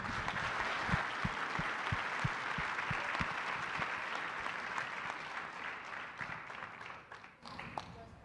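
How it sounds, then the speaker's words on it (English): An awards ceremony audience at a Phoenix banquet hall gives sustained applause, a broad wash of many hands clapping with a few sharper claps standing out, fading slightly near the end. "Let's give these guys another round of applause."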